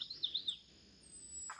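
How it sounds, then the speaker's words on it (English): Birds chirping and tweeting along a pine-lined nature trail by the Ochlockonee River, a few faint high calls in the first half, then quiet, with another brief chirp near the end. "You can hear the birds in the background."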